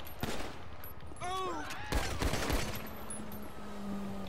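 Gunfire in the video game GTA 5: a few sharp shots crack out in quick succession under scattered game voices, with brief bursts around the middle and a low background hum continuing afterward.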